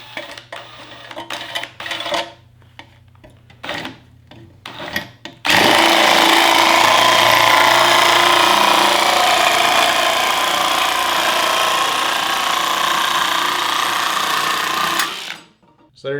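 A Dewalt shear attachment driven by a drill cuts through material: after a few seconds of short, stop-start bursts, a loud, continuous close-up buzzing rattle runs for about ten seconds, then stops abruptly before a brief final burst.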